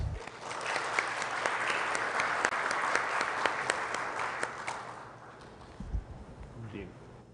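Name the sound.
audience applause welcoming a speaker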